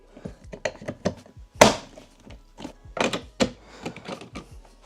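An Audi Q7 door handle is refitted with a run of close clicks, taps and thunks, including one sharper knock, with no talking.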